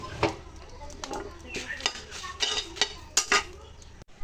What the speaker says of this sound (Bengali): প্রথমে আমি শুকনা মরিচ টেলে নেবো